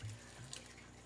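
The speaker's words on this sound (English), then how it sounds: "And we're going to be pouring the water in it. I'm going to go ahead and just do this full bottle" Water poured from a bottle into a bioactive vivarium substrate mix, a soft continuous trickling and splashing pour, fairly faint and close, with no voices.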